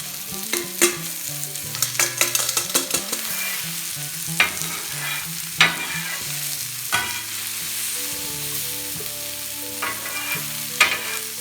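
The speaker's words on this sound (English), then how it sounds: "get our vegetables going" Vegetables fry and sizzle on a cast iron griddle while a spatula scrapes and clatters against the metal in quick, irregular bursts, close and fairly loud.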